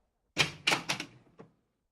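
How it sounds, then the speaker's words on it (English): A door opening in a dramatized English story: a few quick wooden knocks and thumps in close succession, then a fainter final click, heard alone with no talk. "When I arrived, the same servant opened the door."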